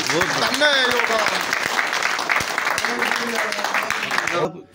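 Clapping from a crowd at a village gathering honoring a sarpanch, with a singer's voice and music running over it, continuing steadily before cutting off abruptly at the end.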